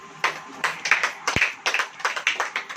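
Clapping from a church congregation during a sermon, a quick run of irregular hand claps in short bursts, close and moderately loud, with a brief low thump partway through.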